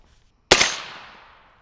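A single sharp, loud rifle shot from an AR-10 chambered in 6.5 Creedmoor fired at Tesla battery cells, with a quick attack and a long fading outdoor tail.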